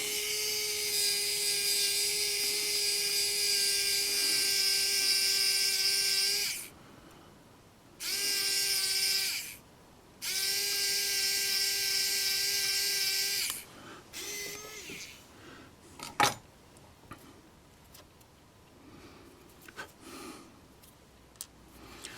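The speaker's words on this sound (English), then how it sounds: "So all I'm doing, which you can't see that right there, is just drilling part way through" A small power drill bores part way into a plastic Proto1000 Budd RDC model train part, a close high whine running in several bursts with short pauses, then quieter handling clicks.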